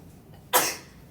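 A single sharp sneeze bursts out in a quiet lecture room, a short loud noisy blast that quickly fades away.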